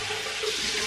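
Warm water runs from a bathroom tap in a steady, close hiss of flowing water for a moment, with no talking.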